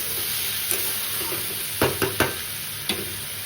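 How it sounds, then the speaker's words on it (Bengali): Potatoes and eggplant frying in oil, a steady close sizzle broken by a few sharp scraping stirs of a utensil in the pan. "আলু বেগুনটা একটু ভাজা ভাজা হয়ে গেছে"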